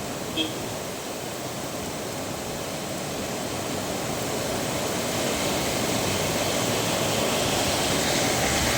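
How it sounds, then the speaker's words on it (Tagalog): Sudden heavy rain pours down in a steady, dense roar that builds slightly louder over several seconds, with no voices over it. "Biglang bumuhos ang ulan guys."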